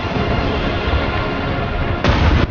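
A steady low rumble of tank engine and battle noise in War Thunder, with a single loud tank gun blast near the end, no talk.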